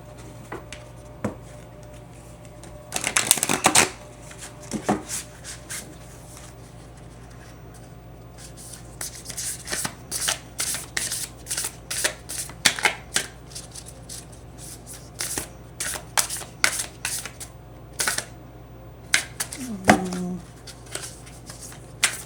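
Oracle cards being shuffled by hand: repeated crisp riffling bursts and soft slaps of card stock, close and fairly quiet, with brief pauses between rounds and no talking.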